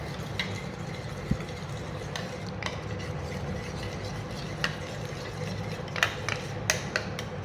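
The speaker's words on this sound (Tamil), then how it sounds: "இப்போது எல்லாத்தையும் நல்லா மிக்ஸ் பண்ணி விட்டுக்கலாம்" Homemade skin-care paste being stirred in a bowl for lightening dark knees, heard as soft scraping and stirring with a few light clinks of a spoon against the bowl over a low background hum.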